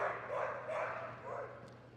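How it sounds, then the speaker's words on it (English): A dog barks on command at a working trials demonstration at the Crufts dog show, a few faint, muffled barks heard at a distance over crowd murmur. "your dog can bark. Can you get it to speak when you want it to?"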